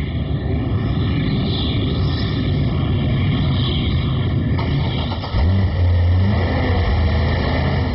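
A 7-liter naturally aspirated V8 in a Corvette Z06 rumbles steadily at close range, then deepens into a heavy low-pitched rev near the end, with no voices.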